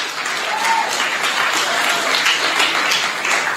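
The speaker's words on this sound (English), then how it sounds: "give a round of applause for the Nitzavim fellows" An audience at a fellowship showcase claps steadily in dense, even applause, sustained and fairly close throughout, with no talk over it.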